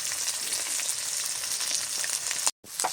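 Chopped onion hits hot oil with crab masala in a pan, a strong close steady sizzle with fine crackles throughout that cuts out briefly near the end, no voices.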